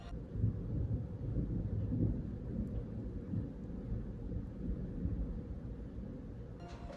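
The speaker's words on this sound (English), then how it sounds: "Okay, so it's raining." Steady rain with low rolling thunder rumbling continuously throughout, a dense, even storm sound with no voices.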